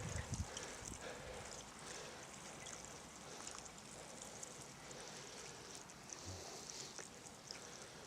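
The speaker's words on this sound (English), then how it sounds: "Now we'll give it a nice thorough watering." Water pours steadily onto soil around a newly planted herbaceous perennial, a continuous soft splashing hiss lasting several seconds at close range with no talk over it.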